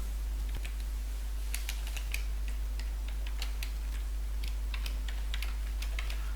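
Computer keyboard typing during Flutter app coding, including a Control X cut shortcut: crisp, scattered keystroke clicks, close and clear over a faint steady hum, with no one talking.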